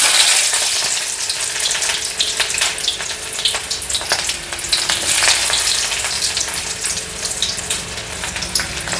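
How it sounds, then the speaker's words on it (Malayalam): Chopped small onions fry in a pan with a steady, loud sizzle, and occasional stirring scrapes punctuate the hiss throughout. "നമുക്കിതിലേക്ക് ചെറിയ ഉള്ളി ഇടാം"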